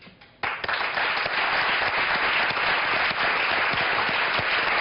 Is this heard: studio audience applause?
yes